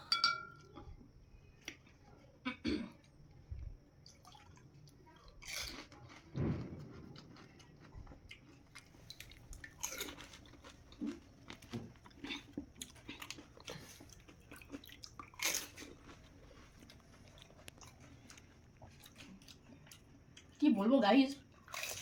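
Someone eats phuchka with tamarind water: soft, close biting, chewing and wet squishing noises, with scattered clinks and drips. A voice talks quietly between bites, and a louder burst of chewing and crunching comes near the end.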